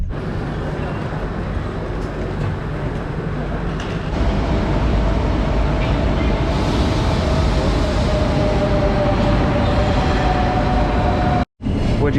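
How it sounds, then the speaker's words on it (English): A double-decker passenger train rolls along the rails on a long-distance route to Barcelona, a loud, constant rumble and rattle heard from inside the carriage with a faint whine, broken by one brief dropout near the end. "Second to last train. Oh, it's double. A double-decker."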